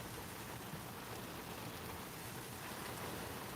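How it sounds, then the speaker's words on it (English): Rain falls in Ohio as a steady, faint, even hiss of drops on surfaces, continuous with no voices. "Up here comes the rain again."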